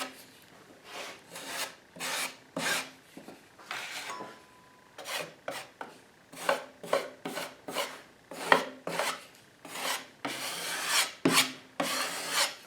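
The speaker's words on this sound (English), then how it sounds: "we take our knife or spackling tools, and we just do this away" A spackling knife spreading and scraping spackle over a small drywall hole repair, giving repeated rhythmic rasping strokes, each a short close gritty swipe with brief pauses between them.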